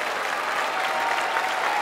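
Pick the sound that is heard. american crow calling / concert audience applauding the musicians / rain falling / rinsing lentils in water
concert audience applauding the musicians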